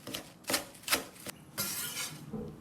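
Knife chopping green onions on a cutting board for thin scallion pancakes: several separate, fairly faint crisp taps, then a denser run of quick cuts, with no voices.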